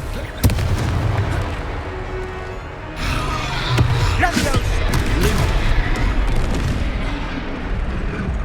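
A Confringo fire-blast spell from the Hogwarts Legacy video game goes off with booming, crackling bursts around the midpoint, set over a steady bed of game music and ambient noise.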